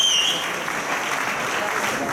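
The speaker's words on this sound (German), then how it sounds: "Applaus" Spectators applauding at a German youth, junior and masters bodybuilding championship, a steady broad wash of clapping from a crowd in a hall, even in level throughout.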